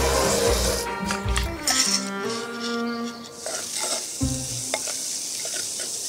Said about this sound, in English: I'll add the peppers into our onions.